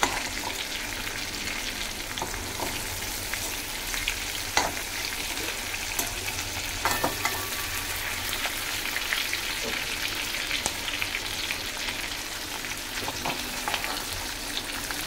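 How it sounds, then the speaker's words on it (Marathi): Stuffed capsicum steam-frying in a pan, a steady close sizzle and crackle running throughout with occasional soft taps and scrapes as the peppers are turned. "आता आपण ही पलटी करून घेऊया जराशी।"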